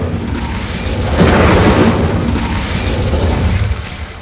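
In Hogwarts Legacy, an Incendio fire spell erupts as a loud, deep whooshing boom that swells for a couple of seconds before tailing off, with no speech.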